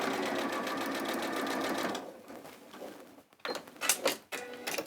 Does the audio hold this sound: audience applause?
no